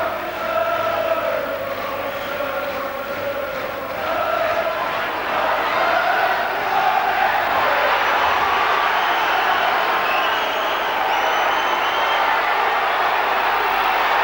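A boxing crowd at the Steve Robinson versus Freddy Cruz fight roars and cheers in a sustained, swelling wall of noise, with shouts rising above it and building louder toward the end.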